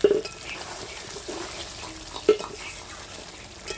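Meat is sautéed in a pan, giving a soft, steady frying hiss with a few knocks of stirring against the pan and no talk.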